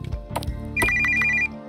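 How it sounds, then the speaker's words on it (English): An old-timey telephone ringtone chimes in a rapid, evenly pulsed burst of bright rings, loud and close, with a few soft knocks just before it. "What kind of old-timey ringtone is that?"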